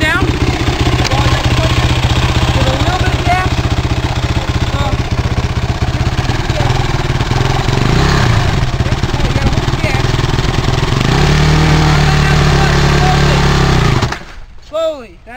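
Yamaha YFZ 450 quad engine running loud and close for most of the stretch, a steady buzzing mechanical drone that cuts off abruptly near the end.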